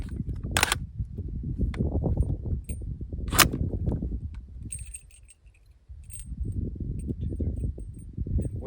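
Steyr AUG rifle chambered in .300 Blackout firing two sharp, loud shots a few seconds apart outdoors, each a brief crack over a steady rumbling background, followed by faint metallic clinks.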